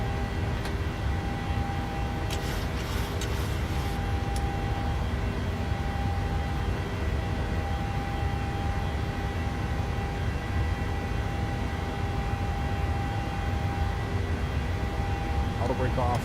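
Steady jet engine roar at climb power from a PMDG 737-800 in Microsoft Flight Simulator, taking off from Atlanta, a continuous broad drone with faint tonal hum, with a voice talking over it.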